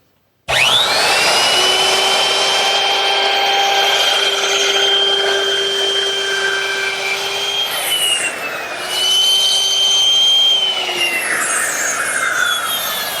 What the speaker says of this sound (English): With another router bit change to a 1/4 inch rounding over bit, I can now ease the back edges of the frame.